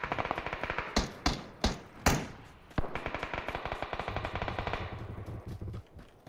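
Bursts of rapid automatic Groza assault rifle fire in PUBG, several sharp loud volleys followed by a longer sustained stream of shots, no talking.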